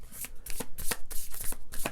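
Close, crisp riffle of a deck of affirmation cards being shuffled during a pick-a-card reading, in repeated bursts of rapid flicking and soft slaps with no talking.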